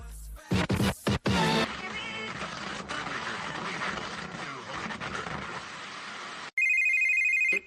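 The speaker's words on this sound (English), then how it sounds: "Bro better answer this phone, man." A telephone rings with a bright electronic trill, first in short bursts, then as a longer tone near the end, loud and close, with speech and scratchy noise through the middle.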